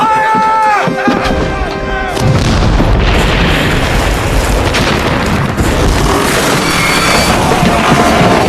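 Ship's cannons fire in a naval battle at sea, a loud, continuous barrage of heavy booms and blasts that rumbles on for several seconds after a brief tonal opening, with shouting voices mixed in.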